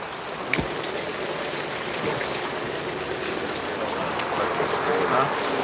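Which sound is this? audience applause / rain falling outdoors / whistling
rain falling outdoors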